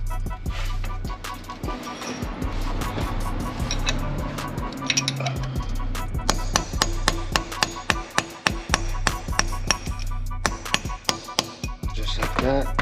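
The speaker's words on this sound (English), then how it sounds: "I can knock that axle out using my punch and the hammer" Repeated sharp metallic strikes of a hammer on a punch, knocking out an axle on a 1999 Honda Civic Si, ring out, irregular at first and then a steady series of hard blows against a continuous low machine hum.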